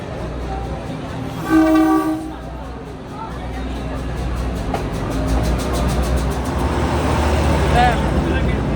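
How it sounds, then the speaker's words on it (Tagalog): A train horn blasts loudly for about a second, then the train rumbles steadily past on the rails, growing louder toward the end, with people talking nearby. "And then the train."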